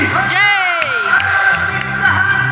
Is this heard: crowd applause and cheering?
yes